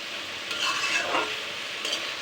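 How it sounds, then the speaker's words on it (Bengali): Bitter gourd (karela) frying uncovered in a pan over high heat on a stove, a steady soft sizzle with brief scraping stirs across a short stretch, no talking. "এখন উদাম করে এটাকে ভাজি করব।"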